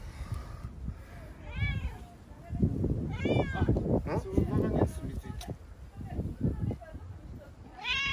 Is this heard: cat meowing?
yes